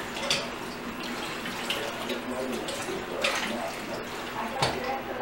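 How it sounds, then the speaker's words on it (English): Steady stream of tap water running into a pot, a continuous broadband wash lasting throughout, with a voice talking over it. "I'm gonna put a little water in"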